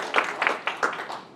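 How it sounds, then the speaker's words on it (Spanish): A church congregation applauding during a Sunday service, a brief burst of scattered, moderately close hand claps fading out. "La iglesia del Señor, da un aplauso."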